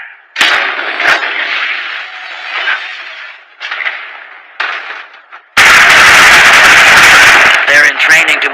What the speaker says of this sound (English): Gunfire? Oh, it's just a military drill.